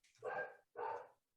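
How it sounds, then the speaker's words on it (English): A dog barks twice in another room, two distinct muffled woofs about half a second apart, moderately loud and a little distant. "my dog's going crazy in the other room, sorry."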